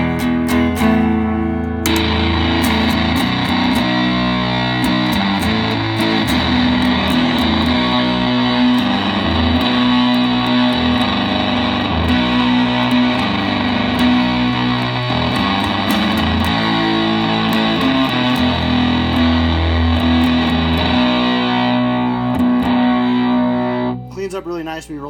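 Fender Stratocaster with a maple neck on the neck pickup plays through a Twin 386 Custom fuzz amp, a thick distorted riff with sustained chords and rhythmic picking, loud and continuous before a final chord fades out.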